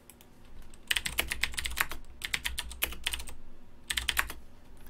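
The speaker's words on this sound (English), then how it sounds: "Just typing you in chat right now." Fast typing on a computer keyboard during an online gaming tournament broadcast, three quick bursts of crisp close key clicks separated by short pauses.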